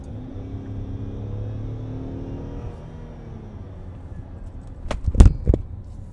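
A Chevrolet Traverse SUV accelerates on a rough, poorly surfaced road, giving a low rising engine drone and steady road rumble from inside the cabin, then a few sharp loud thumps near the end.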